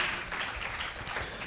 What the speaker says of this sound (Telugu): గట్టిగా చప్పట్లు కొడదాం.